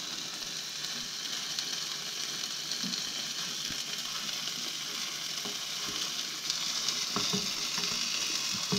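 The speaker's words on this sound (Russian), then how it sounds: "жарится, давай жарься." Breaded meat frying in a pan sizzles steadily at moderate volume, broken by a few small clicks and scrapes near the end, with no speech.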